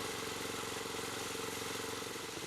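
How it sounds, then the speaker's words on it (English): A Gap Power wood splitter's small engine runs steadily at idle, a loud, close, even mechanical drone with no talk over it. "Now shut off the engine by using the fuel shutoff lever"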